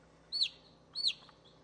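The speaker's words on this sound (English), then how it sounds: "The chick chirps all it wants, but the snake is certainly having its meal today." A chick chirping as it is fed to a python, two shrill high-pitched peeps a moment apart, clear and fairly close against a faint low hum.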